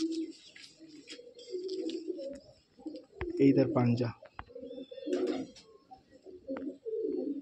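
Kaldama pigeons in a loft cooing in low, throaty repeated coos, close by and intermittent, while someone talks over and between the calls.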